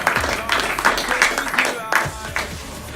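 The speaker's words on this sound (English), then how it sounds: "Let's have a big round of applause" Audience applause rings out after a Milton Keynes South election debate, a steady run of fairly close claps lasting a few seconds, with a voice talking over the clapping.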